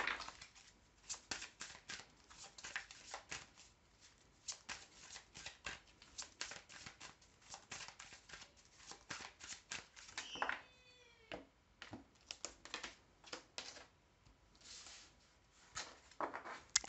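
Tarot cards are shuffled close by in a rapid run of riffling and slapping bursts, with a cat meowing briefly partway through.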